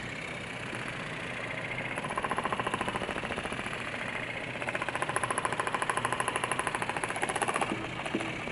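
A TIMTAM Power Massager Pro percussion massager runs against a person's arm, giving a steady close buzzing hum with a rapid rhythmic tapping pulse that grows stronger after the first couple of seconds.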